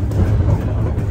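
A tram passing by on a street in Tbilisi, Georgia, a steady low rumble close by with no talking.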